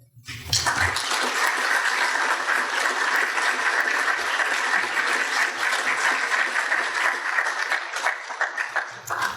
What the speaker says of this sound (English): give Captain Brandon another round of applause